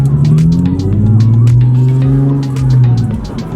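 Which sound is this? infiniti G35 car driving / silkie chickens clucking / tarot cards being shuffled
infiniti G35 car driving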